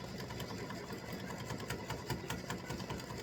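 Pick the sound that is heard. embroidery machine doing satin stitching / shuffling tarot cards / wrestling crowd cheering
embroidery machine doing satin stitching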